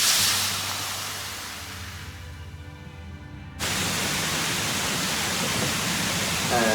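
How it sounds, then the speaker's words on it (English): A video game waterfall from Tales of Berseria gives a broad, steady rushing hiss that thins out briefly, then returns at full strength and continues unbroken. "And waterfall number 2."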